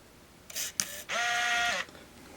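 Self-timer cycle of an Olympus Infinity Stylus Epic Zoom 80 35mm film camera: two short mechanical clicks followed by a steady whirring motor run lasting under a second, close and clear in a quiet room.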